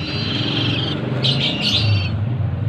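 Banded pitta chick being hand-fed in Cianjur, Indonesia, giving several short, high, raspy begging calls in quick bursts near the microphone over a steady low background hum.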